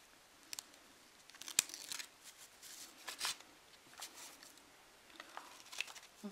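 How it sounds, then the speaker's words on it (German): Peeling the white backing strip off double-sided tape while crafting paper Christmas stars, heard as soft close crinkles, rustles and a few sharp ticks and snaps spread unevenly through a quiet room, with no talking. "hier trennt dann das weiße Band oben vom beidseitigen Klebeband ab"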